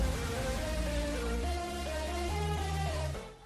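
Boss-battle music from the video game Final Fantasy XVI, a dense, steady orchestral passage with sustained low notes and shifting chords, playing alone at moderate level before tapering off at the end.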